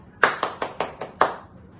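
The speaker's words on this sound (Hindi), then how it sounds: "जोरदार तालियां होनी चाहिए" Audience at a singing show applauding a singer, six distinct claps in a quick, slightly uneven rhythm, close and fairly loud, then fading out.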